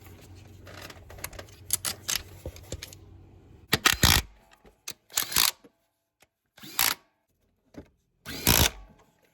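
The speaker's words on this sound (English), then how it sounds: "Then we're going to reinstall the bolts for the coils, tighten them up." A power tool drives and tightens the ignition coil bolts on a Mazda 2. It runs in several short, loud bursts separated by pauses, with faint clicks in between and no talk.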